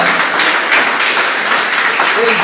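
Congregation applauding during a Spanish-language church service, a loud, dense rush of clapping mixed with voices, close and continuous for a couple of seconds.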